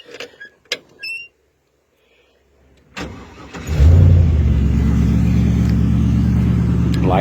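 A 1950 Chevy Styleline convertible with an LS swap, a 2000 all-aluminum Trans Am engine, cranks briefly after a few clicks, then fires and settles into a loud, steady, rumbling idle close by.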